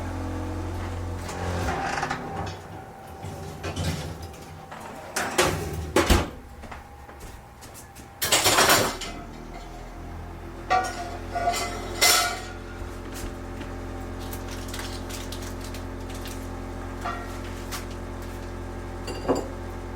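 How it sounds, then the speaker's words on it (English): A Dutch oven pulled from an oven heated to 460 degrees for sourdough bread, with creaks, metallic clanks and thumps of oven door and lid over a steady low hum, including one sharp loud clatter midway. "And take the Dutch oven out and I'm going to put the bread in"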